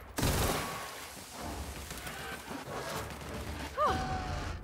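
Gunfire in The Outer Worlds: a loud opening shot followed by scattered, irregular weapon reports and impacts, with a further burst near the end over rumbling game ambience.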